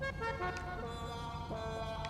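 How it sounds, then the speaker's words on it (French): A custom 'sad trombone' car horn in a video game plays a short, mournful run of descending brassy tones over a faint engine hum. "là vous avez bien entendu, trombone triste"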